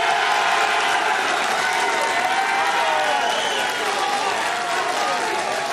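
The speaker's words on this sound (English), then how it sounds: "Please, a round of applause for Milan Grace." A crowd at a high school football awards gala applauds continuously, a thick, even roar of clapping with some cheering mixed in, steady and loud from start to finish.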